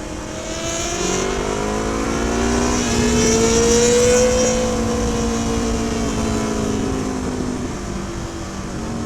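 A loud, raspy engine exhaust with no muffler roars steadily nearby on a Metro Manila street at night, its pitch climbing and falling as the vehicle revs, with no voices.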